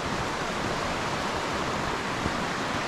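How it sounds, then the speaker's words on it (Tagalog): A steady, loud rush of flowing water fills the whole stretch, a constant broadband roar of a fast river close by in Devil's Glen Forest, County Wicklow, Ireland, with no voices. "Malakas yung ilog."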